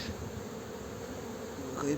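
Honeybees and drone bees buzz steadily at an open hive in Muğla, a dense continuous hum close by with no pauses.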